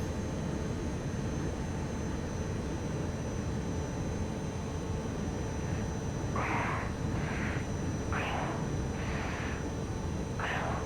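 A BAE Hawk jet engine in the DCS flight simulator, flying over the Nevada desert near Las Vegas, gives a steady, broad cockpit roar throughout, with a few faint short higher whooshes toward the end.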